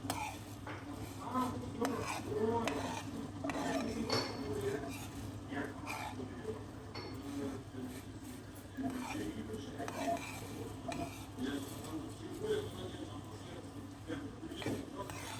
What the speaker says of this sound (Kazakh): Сіздер араластырып тұрамыз. Араластырмасақ күйіп кетеді.